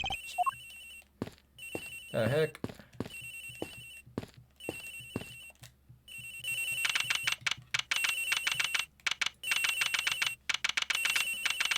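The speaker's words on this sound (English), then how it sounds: "It sounds like the phone is up in the flight attendant's room." Repeated electronic telephone ringtone in the Ace Attorney Investigations video game, sounding in bursts of trilling rings that grow louder and denser toward the end, with a brief spoken exclamation early on.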